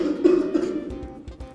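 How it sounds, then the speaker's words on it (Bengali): A person gives a deliberate signal cough, a short close burst followed by softer throaty sounds, heard alone. "ভালোভাবে কাশি দাও"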